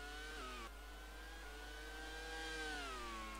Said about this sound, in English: Shannon's running the Renault engines